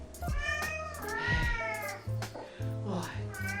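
Several cats meowing and yowling in drawn-out, wavering cries, close by, with a person talking softly in between.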